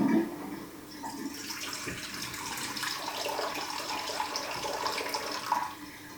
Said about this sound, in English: We're going to start by putting 230 grams of water into the mixing bowl.